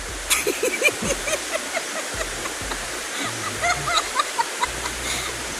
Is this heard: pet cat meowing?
no